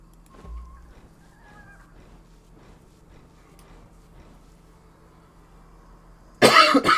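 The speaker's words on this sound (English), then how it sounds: "Excuse me, I coughed." A single short cough bursts out early, close and fairly loud, over a quiet indoor background with a faint steady hum, during a Conan Exiles gaming session; near the end a loud broadband rush of game sound cuts in.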